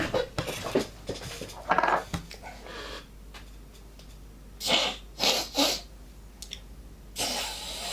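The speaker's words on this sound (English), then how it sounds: "Hopefully I don't have a sneezing fit." A woman out at an airfield market sneezes a few times in quick succession, loud close bursts against outdoor background noise and some clattering.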